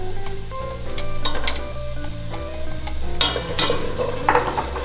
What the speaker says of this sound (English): we'll saute these little guys. Just to get them translucent.